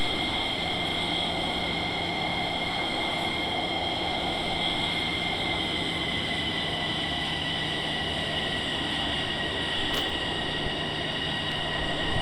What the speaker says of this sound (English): Taxiing a little too fast. Won't turn.